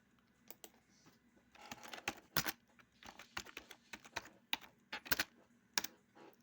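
Close typing on a computer keyboard while playing a Roblox police game, with irregular bursts of sharp key clicks and louder spacebar taps separated by short pauses, no talk.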